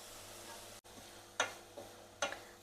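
Carrots cooking in a pan for carrot halwa give a faint, steady sizzle, broken by two or three soft spatula scrapes against the pan, with no talking.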